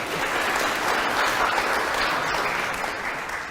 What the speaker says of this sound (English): those of you who are clapping